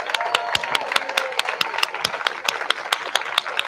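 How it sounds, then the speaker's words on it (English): An audience at a speaking event gives a round of applause, with distinct individual claps clearly audible in an uneven, rhythmic patter and a soft crowd murmur underneath, lasting the whole stretch. "Let's do one more round of applause for Diane."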